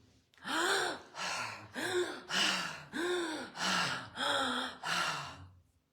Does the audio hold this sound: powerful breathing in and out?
yes